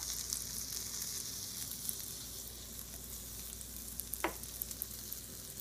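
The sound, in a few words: fish sticks sizzling in hot frying pan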